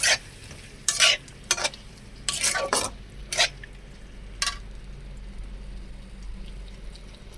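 A spatula stirs fried potatoes with thekera and a splash of water in a pan for an Assamese fish curry, making several sharp scraping strokes over a soft sizzle that fades to a quiet simmer.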